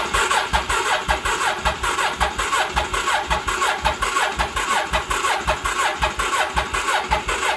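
A 1983 Honda Shadow VT750C motorcycle engine cranks over on the starter, a close, rapid, pulsing churn repeating evenly throughout without catching.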